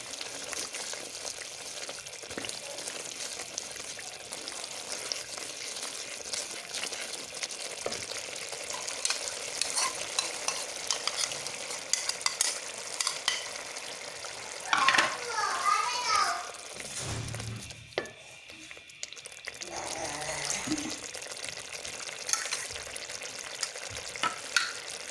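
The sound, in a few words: masala with yogurt frying and being stirred for fish curry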